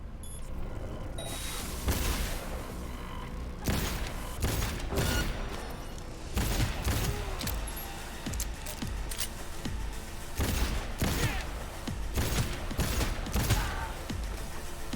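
Gunfire from a Cyberpunk 2077 firefight, repeated loud bursts of shots and booms in irregular clusters, close and dominant with little else between the blasts.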